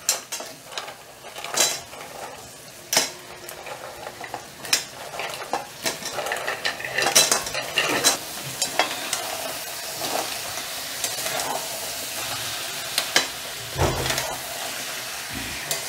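Crab pieces sauté in oily masala in a pan, giving a continuous sizzle broken by repeated scraping and clanking of the spoon against the metal, close and without voices.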